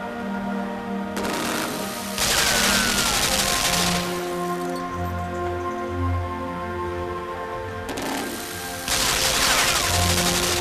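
Video game gunfire with explosive bursts from a machine gun and other weapons, loud sustained volleys with a brief lull, a physics-heavy battle scene amid constant background sound.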